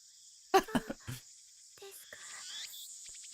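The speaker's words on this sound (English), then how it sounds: "The only sound is the chirping of cicadas." Steady high cicada chirping in the Steins;Gate video game, a thin continuous drone that runs under a few short, sharper sounds near the start.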